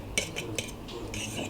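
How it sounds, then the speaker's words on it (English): A utensil stirs a cauliflower and mozzarella pizza base mixture in a bowl, making a few soft clinks and scrapes close by against a quiet background. "Mix properly."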